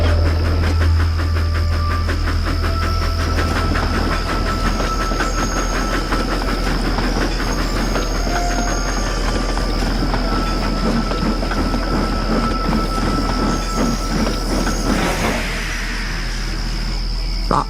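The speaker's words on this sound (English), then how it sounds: "That sounds like an engine" A railway engine rolls along the tracks with steady clickety-clack and a sustained hiss, loud and continuous, with a brief squeal of wheels near the end.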